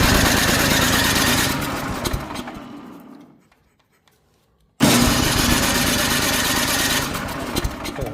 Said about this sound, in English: I just want to see if the electric start works